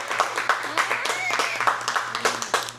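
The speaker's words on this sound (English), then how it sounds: "can we give a round of applause for Carlton and Nia?" A small audience applauds the guests at a talk on financial success in marriage, a couple named Carlton and Nia: a brief patter of scattered claps, moderately close, with overlapping voices and a steady low hum underneath.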